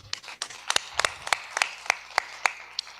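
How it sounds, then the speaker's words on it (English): Scattered, uneven claps from a small audience at a youth and college day convention, roughly a dozen distinct hand claps at an irregular pace, moderately close, with no talking over them. "Let's clap him up"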